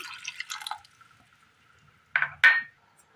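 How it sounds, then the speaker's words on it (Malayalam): Water is poured into a cooking pot holding chickpeas, chopped onion and salt, in two short splashy bursts close by, separated by a quiet pause. "വെള്ളം കൂടി ഒഴിച്ചു കൊടുക്കാം"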